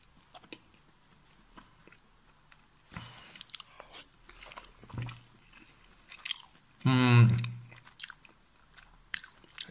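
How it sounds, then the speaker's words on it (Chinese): Rice from a Korean self-heating military field ration being chewed close up, with soft intermittent mouth sounds building to a louder burst of crunchy, squishy chewing toward the end. "咱们尝一尝它那米饭"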